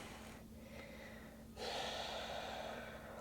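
Breathing during a yoga hold: a few audible breaths, a sharp inhale then a longer, stronger exhale, close but faint over a quiet room hum.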